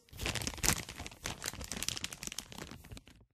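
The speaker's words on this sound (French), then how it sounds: "Le bruit d'un paquet dans lequel on prend un bonbon en cachette." A plastic candy wrapper crinkled and rustled while someone quietly takes a sweet, a run of close, irregular crackles and crunches that stop abruptly.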